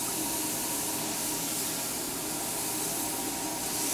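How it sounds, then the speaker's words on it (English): Tilapia searing on a hot plancha produces a steady, broad hiss that stays level and close the whole time, with no talk over it. "Just gonna lightly sear it on both sides."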